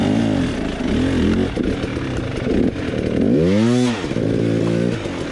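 A dirt bike engine revs hard and loud, rising and falling in pitch through several sweeping bursts before launching up a jump, close and continuous with no talk.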